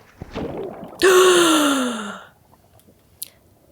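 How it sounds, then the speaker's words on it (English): A faint breathy sound, then a sudden loud gasp sharply drawing in air that trails off into silence, followed by a small click. "Then, a huge gasp of air."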